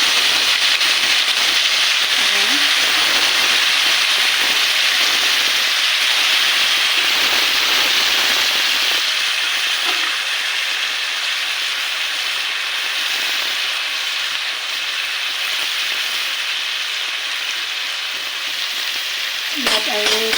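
Bitter gourd frying in a pan with turmeric, a steady loud sizzle and crackle running throughout, with occasional spatters and stirring scrapes close by.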